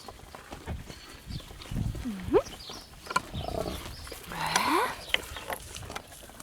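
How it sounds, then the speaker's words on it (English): A cow calls from a meadow, two drawn-out moos rising and falling at moderate distance over soft outdoor background noise. "there's a cow calling from the meadow"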